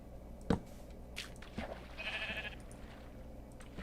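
A single sheep bleats briefly in the middle in Minecraft Alpha 1.1.2_01, fairly faint, amid a quiet background with a couple of soft thumps.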